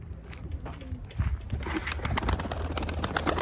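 Pigeons in a breeding loft give low, soft coos amid shuffling and rustling, a steady close murmur of birds with no one talking.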